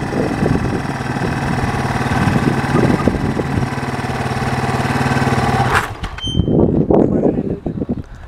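A dirt bike engine idles with a steady, close, throbbing putter for several seconds, then cuts out abruptly, leaving a few shorter rough bursts of noise at the end.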